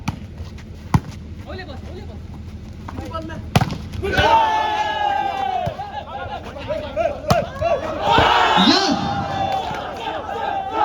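Crowd at an open volleyball tournament match in Sowthadka breaking into applause and cheers after a point, with an announcer speaking over the noise and sharp ball thumps.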